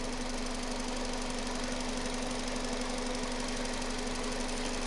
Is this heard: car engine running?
yes